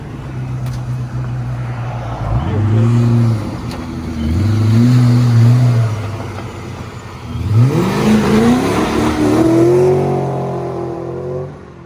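A car on a test drive revs hard and pulls away, its engine climbing in repeated rising sweeps with gear-change dips between them. It is loud and close throughout, with no voices.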